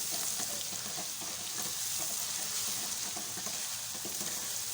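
Ginger garlic paste frying with browned onions in a pan, a steady close sizzle with soft scraping from continuous stirring.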